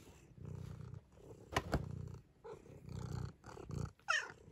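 A cat makes low growling, purring rumbles in short bursts, followed by a sharp meow near the end.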